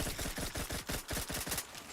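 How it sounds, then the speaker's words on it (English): Rapid bursts of submachine gun fire in a video game, fired in quick repeated volleys across the whole stretch, loud and close with no voices. "Okay, the SMG is fun."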